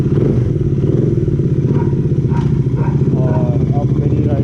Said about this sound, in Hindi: ये अपनी बाइक स्टार्ट करने लगाऊँ